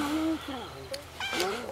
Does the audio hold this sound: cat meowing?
yes